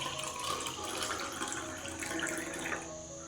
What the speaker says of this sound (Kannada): ಗ್ಲಾಸಿಗೆ ಹಾಕಲತ್ತೀನಿ